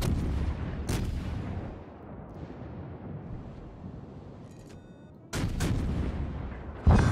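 Naval guns booming from a UK cruiser in a naval battle video game, a heavy blast followed by rumbling wind-like noise, then a louder salvo near the end and another sharp crack right at the close.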